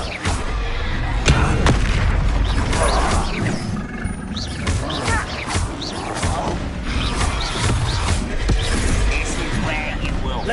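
Confringo fire spells exploding again and again in the video game Hogwarts Legacy, a dense barrage of loud booming blasts and crackling impacts, with a voice shouting spell names over the noise.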